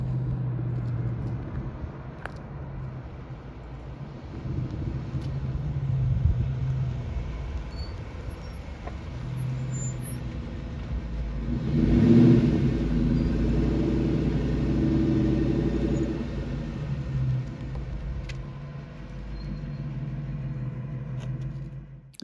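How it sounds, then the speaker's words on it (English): A 2003 Ford Mustang GT pulls away at a car show and meet, its low V8 rumble rising around the midpoint as the engine revs, then holding steady at a moderate distance with no talk. "to hear a car drive off like that and get to enjoy what it sounds like"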